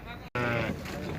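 One loud, close sheep bleat rings out at the Sandybai livestock market in Shymkent, where fattened sheep are for sale, amid market background noise.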